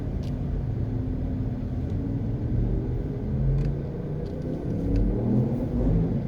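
Car driving slowly through a busy PriceSmart parking lot off Red Hills Road in Jamaica, a steady close engine rumble and road noise continuing throughout without a break.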